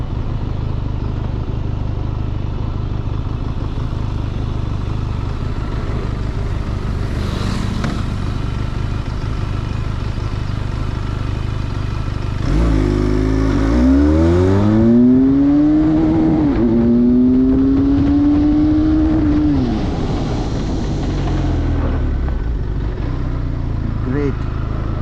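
A 2021 Benelli 502C motorcycle brakes on the road. Heavy wind rush runs throughout, and midway the engine note rises, falls and drops away as the bike slows, fairly close.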